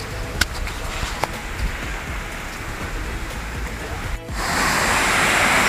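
A hidden waterfall near a cave in Kendujhar district gives a steady, dense rushing hiss, growing louder and brighter after a short break near the end.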